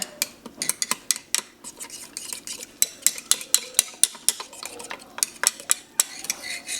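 Cooked split peas are mashed in a crock pot with a metal utensil, producing a series of irregular clinks and scrapes against the pot, close and fairly quiet, with soft squelching between the strikes.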